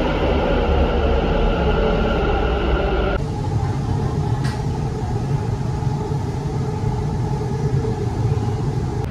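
A metro train carrying passengers during a ride, giving a steady, loud low rumble with rail noise that shifts in tone about a third of the way through and continues without a break.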